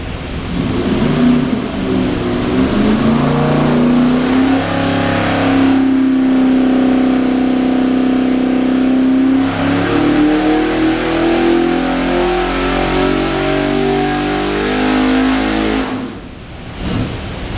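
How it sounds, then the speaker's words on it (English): A Shelby FIA Cobra 347/363 custom crate V8 on a dyno climbs in a loud, continuous rev sweep, with pitch rising steadily for about ten seconds before the throttle snaps shut and the engine drops back. "we're going to make a run on our FIA Cobra, just make a quick sweep, and then show you how responsive this bad boy is"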